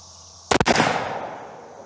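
A single loud rifle shot from a .444 Marlin firing Remington Core-Lokt ammunition, a sharp close blast followed by a decaying echo over about a second.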